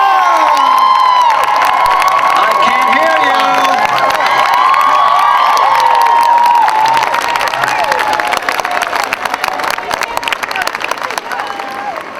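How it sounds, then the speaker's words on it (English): Graduation crowd at a 2014 Guilford College commencement cheering, whooping and applauding loudly and continuously throughout, with shouts rising over the roar and a voice speaking amid the noise. "Give your family and friends who supported you a huge round of applause."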